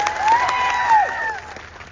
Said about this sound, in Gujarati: એ ડેડિયાપાડા અને સાગબારાની જનતા માટે એકવાર જોરદાર તાળીઓ પાડી લો